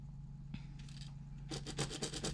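Marking a line on handbag fabric gives a faint scratchy rubbing, first a short isolated stroke, then a quick series of back-and-forth strokes close by.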